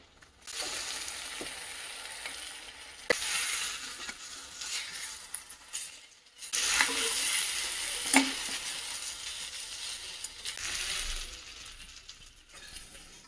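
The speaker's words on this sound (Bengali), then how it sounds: "এবার এই কষানো মশলাটার মধ্যে ফ্রাই করে রাখা চিকেনগুলোও দিয়ে দিই দিয়ে একবারে আর একটুখানি কষাই" Pre-fried chicken pieces go into a cooked-down spice masala and sizzle steadily as they are stirred, with a continuous frying hiss, occasional scrapes and clinks, and a brief lull midway.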